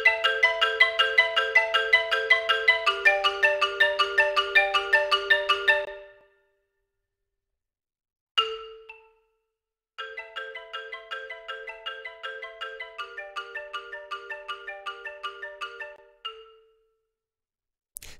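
Sampled scoring mallets play bell-like chords of four notes held with the sustain pedal, fast repeated strikes ringing bright and fairly soft, then a pause, a single struck chord, and a second rapid passage.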